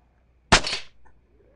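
A single sharp gunshot from the video game DayZ on PS5, loud and close, with a quick decaying tail and a faint echo afterward, standing alone against near silence.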